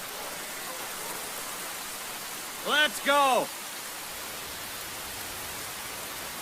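Steady rain falls as a soft, even wash of noise throughout, and a voice briefly shouts over it midway.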